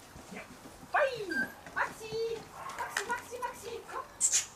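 Wire-haired miniature dachshunds whimper and yip in high, thin whines and short squeaks, close by, mixed with someone talking to them in an encouraging tone.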